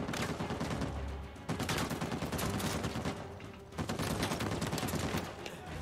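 Dense, sustained gunfire from a firefight in the video game Uncharted 4, loud and continuous with brief dips, almost no gap between rounds.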